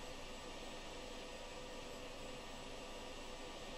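A jet engine in the Falcon BMS flight simulator drones steadily as the throttle is eased forward, a constant broadband roar that stays even and fairly quiet throughout with no voices over it.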